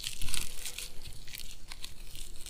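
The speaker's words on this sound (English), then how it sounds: "let's just crumple it up like this" Dry fallen leaves are crumpled by hand for garden mulch, giving a steady close crackling rustle that continues throughout without talk.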